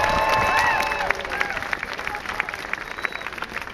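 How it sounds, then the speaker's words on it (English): A crowd at an outdoor equal marriage rights rally in Sydney claps and cheers, loud at first and then thinning into scattered, uneven claps as the applause tapers off. "Give yourselves a round of applause."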